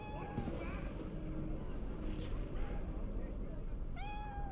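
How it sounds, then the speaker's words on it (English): A cat meows in the video game Cyberpunk 2077, with a couple of short rising mews heard near and fairly clear, once at the start and once near the end, over steady game ambience while players talk. "There's a cat. Pet the kitty."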